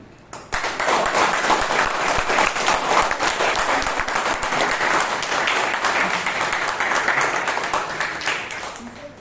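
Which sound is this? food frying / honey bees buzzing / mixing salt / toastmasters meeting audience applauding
toastmasters meeting audience applauding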